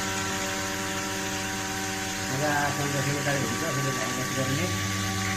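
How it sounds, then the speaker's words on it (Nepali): A blender runs, mixing eggs and oil into homemade mayonnaise, giving a steady, even motor hum throughout while a person talks over it. "ब्लेन्डर है,"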